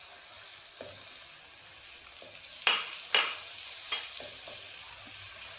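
Onions sautéing with freshly added tomatoes give a soft, steady sizzle, with a few sharp utensil clinks and stirring knocks standing out midway, fairly quiet and close.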